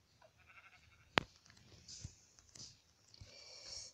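Sheep bleating in Minecraft, a sharp loud bleat near the middle with fainter game noises and soft scattered sounds around it.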